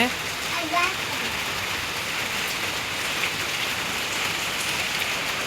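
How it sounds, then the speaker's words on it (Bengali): Steady rain falls in a dense, even hiss across the whole stretch, with faint voices or kitchen sounds underneath. "আজকেও বৃষ্টি নামছে"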